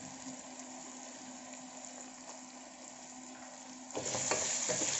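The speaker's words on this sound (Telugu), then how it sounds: "ఇప్పుడు ఇందులో టమాటా ముక్కలు వేద్దాం." Tomato pieces stirred into onions and ginger-garlic paste in a hot pan for tomato rice give a steady, moderately quiet sizzle that grows louder and busier near the end as stirring picks up.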